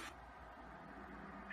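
A cat meows in the video game Nights of Azure, with a short high cry at the start and another near the end, faint against a steady low game backdrop.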